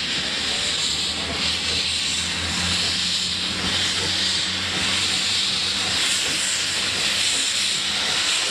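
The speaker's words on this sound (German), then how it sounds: "Der Dampfzug der Eisenbahnfreunde Zollernbahn trifft als erster Zug in Hausach ein." Steam locomotive 58 311, a goods-train engine pulling a heritage passenger train, arrives at Hausach station in the Black Forest, with loud continuous steam hissing over a low rumbling idle, close by and steady, without speech.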